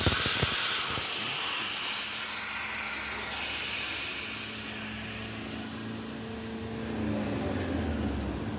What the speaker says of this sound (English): So we take off the valve on the compressor and we just press this here to release the pressure.